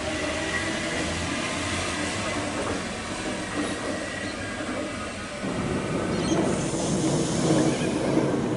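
A suburban train pulls away from a platform at Dulwich Hill station in Sydney, with a continuous rumbling roll. Wheel noise swells and brightens in the last few seconds, and no voices are heard.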